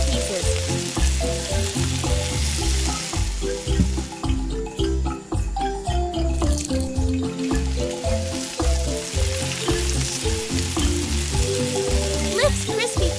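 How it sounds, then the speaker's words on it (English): Battered fish pieces deep-fry in a miniature cooking setup, giving a continuous bubbling sizzle beneath prominent melodic music that runs the whole way through. "Fries battered fish pieces."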